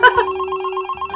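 A toy telephone rings with a brief electronic bell tone, a bright warbling ring repeating within about a second, fairly close and clear.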